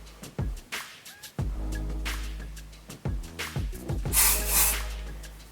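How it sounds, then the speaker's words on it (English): Short hissing bursts of texturizing hair volume spray, several quick puffs then a longer spray near the end, close by with a low background hum. "Texturizing volume spray."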